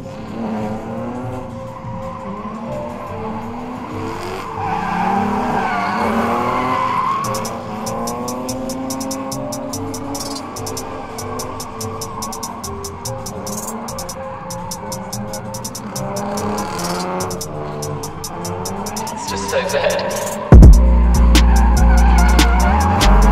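A BMW E30 328i with a fuel-related power problem drifts, tires skidding and squealing loudly over a revving engine, the screech sweeping in pitch and ending with a sharp louder burst near the end.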